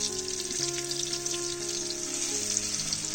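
Onions sautéing in oil with bay leaf in a pan for biryani cooked outdoors by a river, a steady bright sizzle with light stirring, fairly close, no speech.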